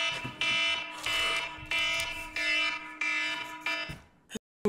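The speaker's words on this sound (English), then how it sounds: "Like that alarm literally is the school haunter, bro." Fire alarm ringing in loud repeated electronic bursts, about five pulses with short gaps, close and alone, cutting off abruptly at the end.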